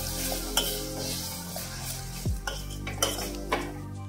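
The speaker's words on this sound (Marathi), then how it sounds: "तेल सुकस्तोवर परतून घेणार आहोत" A ground paste of garlic, sesame and poppy seeds frying in oil, a low steady sizzle under repeated clinking scrapes of a spoon against the pan, with a constant hum behind.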